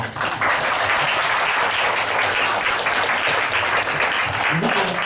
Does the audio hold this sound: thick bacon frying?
no